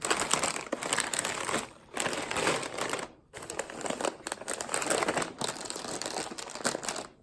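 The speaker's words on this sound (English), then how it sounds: "So sorry, this is going to be a little crinkly." Plastic chip bags crinkle and crumple up close in dense, continuous bursts, with brief pauses between handlings and no talking.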